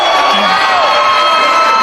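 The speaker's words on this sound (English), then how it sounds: "Hearing it from the crowd here in Chicago." Dense, roaring wrestling crowd in a Chicago arena, a loud continuous wall of cheering and shouting that holds steady throughout with no clear pauses.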